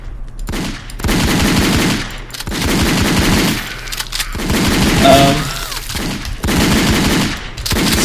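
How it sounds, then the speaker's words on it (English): Sustained automatic gunfire in a sandbox shooter game, long rattling bursts of machine gun fire nearly filling the stretch with only brief pauses between volleys, loud and close. "Stop shooting me!"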